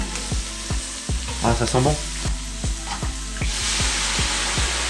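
Scallops frying in a pan as white wine goes in to deglaze, a steady crackling sizzle with repeated sharp clicks and scraping under brief close talk.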